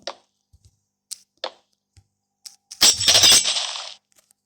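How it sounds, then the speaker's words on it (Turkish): Glass breaking in Minecraft, a loud crisp shattering burst lasting about a second, preceded by several small sharp clicks and taps. "Camı da kır artık yani."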